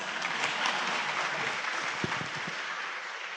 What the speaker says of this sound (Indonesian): kalau mau tepuk tangan yang ikhlas Pak, silakan Pak